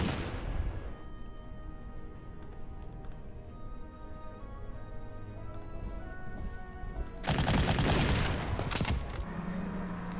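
Artillery fire in the Panzer Corps strategy game, a quiet mechanical hum giving way to a sudden loud barrage of booming, crackling blasts that rings out for several seconds before settling.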